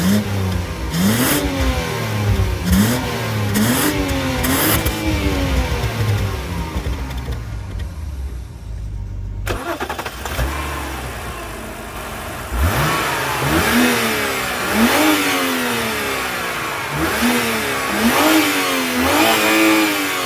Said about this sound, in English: I'm gonna go rig up the tripod to the exhaust to give you guys some engine sounds